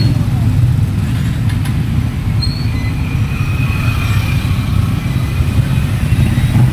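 Constant traffic noise of cars and motorcycles on a daily congested road in Leyte, a steady low rumble of engines and tires throughout with no clear individual pass-bys.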